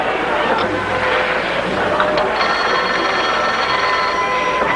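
A telephone rings in a home in a colorized 1950s sitcom, its bell repeating steadily under a busy background of voices and household bustle.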